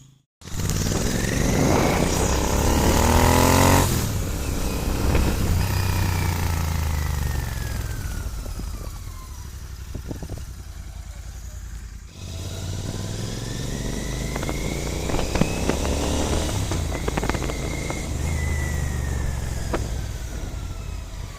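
Royal Enfield GT 650 twin motorcycle riding after a service, engine loud and close throughout with rising and falling revs through gear changes, brief lull near the middle.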